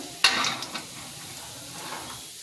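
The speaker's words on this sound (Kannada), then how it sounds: "ಇದಾಗಿ ಚೆನ್ನಾಗಿ ಫ್ರೈ ಮಾಡಬೇಕು ನೋಡಿರಿ" Ingredients frying in a little oil for mandakki oggarane, a burst of sizzle as something hits the hot pan followed by softer hissing and light stirring scrapes, close and fairly quiet.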